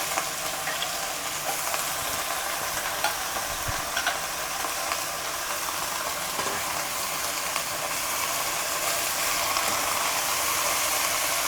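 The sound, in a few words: sautéing manathakkali greens in a pan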